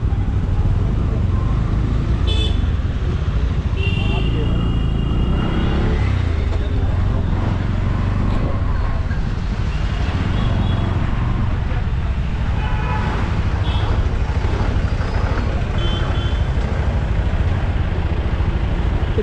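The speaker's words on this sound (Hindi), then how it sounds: "अभी हम पहुंचे हैं तपोवन, तो बहुत ज़्यादा ट्रैफिक देखने को मिल रहा है" Heavy traffic jam at Tapovan, Rishikesh: a steady roar of idling and creeping vehicles with scattered car horn toots, some short and some held, close and loud throughout.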